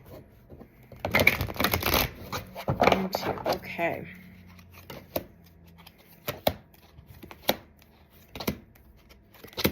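Tarot cards being shuffled in a few quick, crisp bursts close to the mic, with someone speaking briefly between them.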